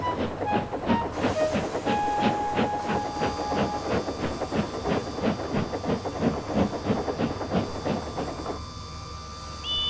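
A steam engine train puffing away in a steady chuffing rhythm, with rail clatter and a faint whistle-like tone, loud and close throughout.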